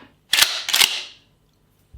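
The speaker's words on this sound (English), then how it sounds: "And then you can test your pump action. Oh, did you hear the click clack on that bad boy?" The pump action of a Dominator DM870 is worked once, a sharp two-part click-clack of metal close up, then quiet.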